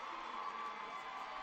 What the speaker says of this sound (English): The crowd is absolutely ecstatic at the moment. They're stomping and hollering in the stands.